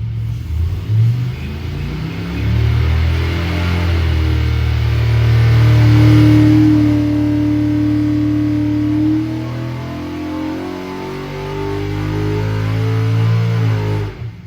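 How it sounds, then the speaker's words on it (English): A 407 cubic inch small block Chevy V8 street engine revs up and settles back, a deep rumbling idle rising to a smooth, loud rev, with no one talking. "407 small block Chevy"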